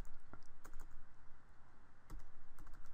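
Quick, irregular clicking of keys being typed on a computer keyboard while entering a website address, close and fairly quiet, with brief pauses.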